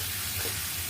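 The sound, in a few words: sautéing vegetables with spices in a pan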